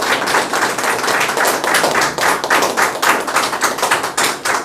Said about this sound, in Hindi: एक बार उनके लिए ताली होनी चाहिए।